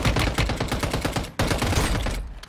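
Rapid automatic gunfire in Warzone Mobile, a dense, loud burst of shots with a brief break midway before it resumes.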